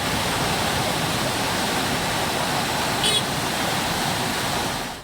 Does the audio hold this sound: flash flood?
yes